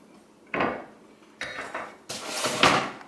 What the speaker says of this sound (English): I just line the cookie sheet with aluminum foil because then it doesn't get dirty